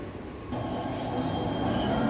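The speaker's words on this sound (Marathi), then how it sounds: "एक जलद गाड़ी जाने वाली है" A Mumbai fast local train rushing through a station, a steady rumbling roar of rail cars with wheel noise that builds slightly, heard alone without talk.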